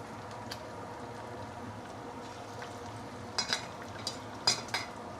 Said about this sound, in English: So we will fry until it is cooked